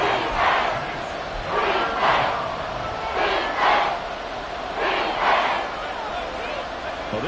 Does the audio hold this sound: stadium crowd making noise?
yes